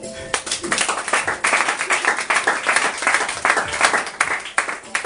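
Church congregation at a Sunday service applauding in praise of the Lord, steady sustained clapping from many hands filling the room, with voices mixed in throughout.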